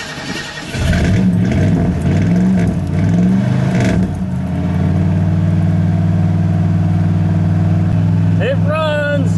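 A car engine cranks and catches after a fuel sending unit install, then settles into a steady, loud idle running close by, with a short whistle-like sound near the end.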